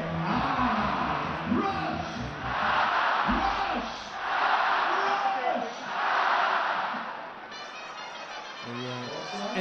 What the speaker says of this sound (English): the crowd are shouting ah